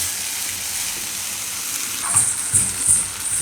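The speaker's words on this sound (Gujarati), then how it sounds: "ટમેટા એકદમ સરસ પાકી જાય ત્યાં સુધી. ગેસ ફૂલ જ રાખવાનો, વચ્ચે વચ્ચે હલાવતા રહેવાનું." Tomatoes fry in a pan over a full gas flame, giving a steady bright sizzle, joined in the second half by several soft scraping knocks as they are stirred.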